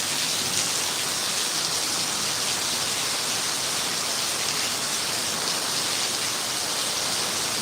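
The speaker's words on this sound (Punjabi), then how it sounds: "ਮੀਂਹ ਬਹੁਤ ਆ" Heavy rain pours without pause, a dense, even, bright hiss that stays loud and uniform throughout, with no voices or other sounds breaking through.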